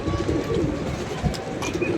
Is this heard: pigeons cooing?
yes